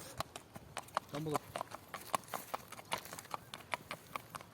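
Horse hooves clip-clop in a steady, brisk rhythm on hard ground, with a brief voice in the background.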